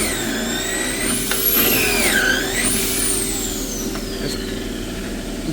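A pocket hole drill boring into dense beech wood sends a loud motor whine that sweeps up and down in pitch as it strains and revs, continuous and close, with no talking.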